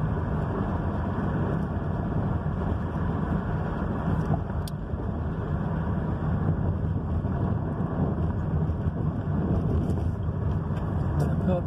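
A car coasting in neutral after being given gas, a steady broadband rumble of road and wind noise that holds even and continuous throughout, with no engine revving.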